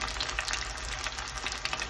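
Chicken crackles in hot oil during its second fry at home, a steady dense hiss with small popping bursts, close and fairly loud with no talking.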